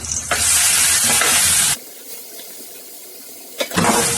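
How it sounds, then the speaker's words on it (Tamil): Chopped onions sautéing in hot oil: a loud, close sizzle with stirring for under two seconds, then a quiet lull, and the frying noise returning strongly at the end. "வெங்காயம் வந்து நல்லா வதங்கிட்டு இருக்கோம்"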